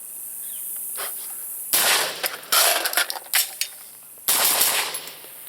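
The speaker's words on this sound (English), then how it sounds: "mount the rifle, fire 1 shot, perform my reload, and fire 3 more shots" Live-fire rifle drill: after quiet handling noise, one loud sharp shot rings out, followed by clicking reload sounds, then three more sharp shots with echoing decay, close and loud, no talk.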